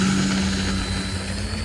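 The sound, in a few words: E-flite Turbo Timber RC plane taking off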